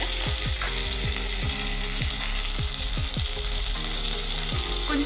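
Onions, mint and coriander sizzle steadily in a hot pan for green chilli chicken pulao, with repeated sweeping stirring strokes scraping through the loud, continuous frying and no talk.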